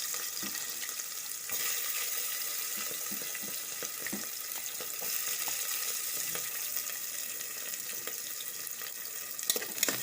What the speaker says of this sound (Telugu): ఆయిల్ వేడెక్కిన తర్వాత ఉల్లిగడ్డ వేయాలి.